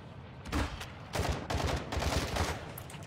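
Gunfire in the video game Warzone 2.0 strikes the player, a few ragged bursts of shots and impacts over low background game noise, fairly close and moderately loud with no talking.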